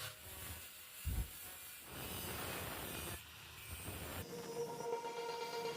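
An angle grinder with a cutting disc grinds metal while a workshop wrench is made from scrap, a continuous loud whining rasp that shifts pitch and texture as the pressure on the disc changes, with no voices.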